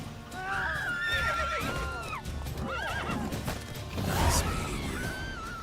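Roach, Geralt's horse in The Witcher 3: Wild Hunt, gives a loud, close whinny with rising and falling tones, accompanied by hoof clops and a thud partway through.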